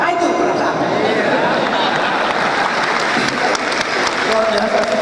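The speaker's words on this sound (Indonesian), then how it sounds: "Luar biasa, tepuk tangan juga," A studio audience at a talk show with Dahlan Iskan applauds in a dense, continuous wash of clapping that holds at a steady, loud level for the whole stretch.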